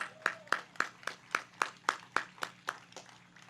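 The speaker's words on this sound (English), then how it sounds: "we give them a thunderous round of applause" Slow, evenly spaced clapping at a municipal election candidate forum, about a dozen distinct claps in a steady rhythm, fairly quiet with a faint room background.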